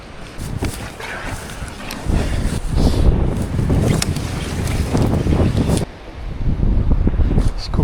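Gale-force storm wind sweeps an island forest of spruce trees, roaring loud and unbroken with heavy gusts buffeting the microphone, plus a brief lull near the end.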